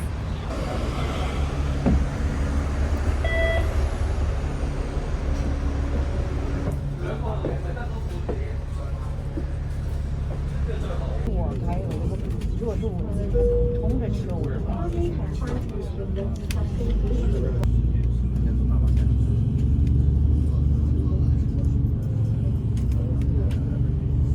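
Ride aboard the number 1 bus climbing a hill in Hong Kong: a steady engine rumble and road noise from inside the cabin, with a voice talking over it throughout.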